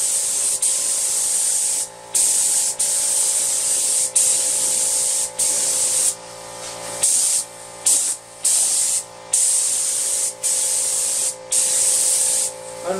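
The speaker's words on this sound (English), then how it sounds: "you spray it on thicker, and that will even it out and give you a smooth surface" Spray gun laying a coat onto a fiberglass motorcycle tank mold, a loud steady hiss cut into repeated bursts with brief pauses between passes.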